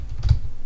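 Typing on a Swedish computer keyboard: a brief close keystroke thump in a short, quiet moment with no talk.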